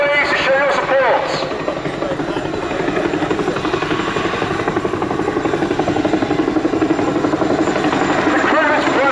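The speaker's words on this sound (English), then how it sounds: "The Chinook is a resilient battlefield helicopter with fast protection and redundancy measures" A Chinook twin-rotor helicopter at an air show gives a loud, close, continuous rotor thrum with rhythmic blade chop and engine whine, while an announcer talks over it throughout.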